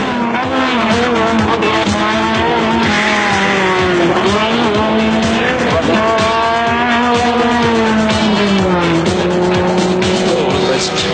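Toyota Corolla race cars at full throttle on a mountain circuit, engines droning loudly with shifting pitch while tires squeal and skid through corners, continuous and close.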